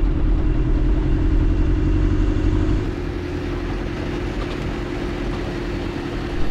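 An old Land Rover engine drones steadily while driving, a loud, even mechanical rumble with a low hum that drops slightly in pitch and level partway through and then holds constant.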